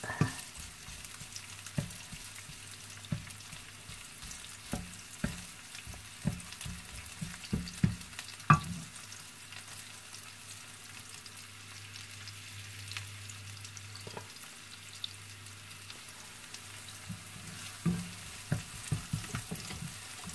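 Chicken breast browns in a frying pan for chopsuey, a faint low sizzle under scattered sharp clicks and scrapes of stirring, quiet and fairly close, with no voices.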